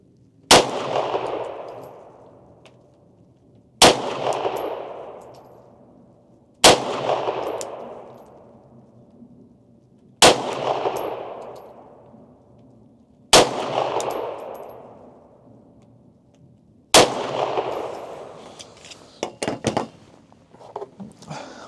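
An M9A1 pistol fires at a morning range, six single loud shots spaced a few seconds apart, each cracking sharply and trailing off in a long echoing decay, followed by faint clattering.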